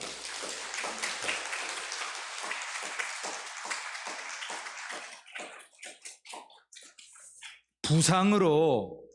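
Church congregation applauding after a plaque is presented during a Sunday morning service, dense clapping for about six seconds that thins into scattered claps, then a sudden loud tonal burst of other sound at the end.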